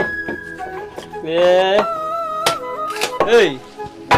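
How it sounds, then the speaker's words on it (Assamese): Irregular knife taps on a board chop onions steadily, set against background voices and tonal sounds. "পিঁয়াজ কাটি আছো"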